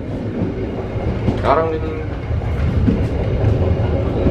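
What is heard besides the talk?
KA Dharmawangsa passenger train running on rails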